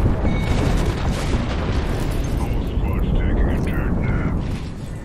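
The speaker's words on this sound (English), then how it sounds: "We've got an airstrike coming in." Airstrike explosions rumble in a video game, a dense, loud, continuous roar of booms and blasts filling the whole clip, with a voice talking over it.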